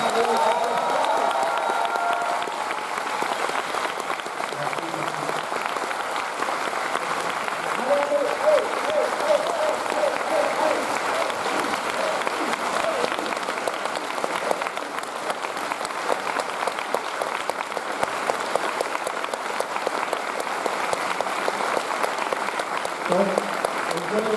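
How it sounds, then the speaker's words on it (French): A large festival audience at a film premiere gives long, sustained applause for Camille, a steady dense roar of clapping with faint voices underneath. "encore un tonnerre d'applaudissements pour Camille"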